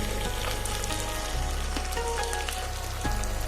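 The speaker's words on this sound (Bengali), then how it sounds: "5 মিনিট ধরে আমি ভালো করে মাংসটাকে ভেজে নিয়েছি সব কিছুর সাথে।" Chicken fries in a kadai with a loud, dense, continuous sizzle and crackle, with spitting pops spread throughout and a low rumble underneath; no voices.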